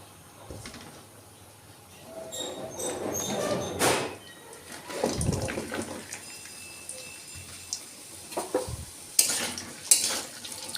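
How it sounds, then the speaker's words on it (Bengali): Vegetables fry in mustard oil in a pan for winter-vegetable khichdi, with a utensil stirring and scraping against the metal in irregular clatters over a soft, steady sizzle, close by and moderately loud. "আমি এখানে সর্ষের তেল দিয়ে দিয়েছি এবার আমি সবজিগুলো একটু ভেজে নেবো"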